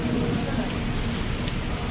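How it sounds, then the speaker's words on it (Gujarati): Heavy rain pours down in a dense, continuous roar that stays at the same loud level throughout, with no pauses. "એક કોમ વરસાદ ફૂલ ચાલુ"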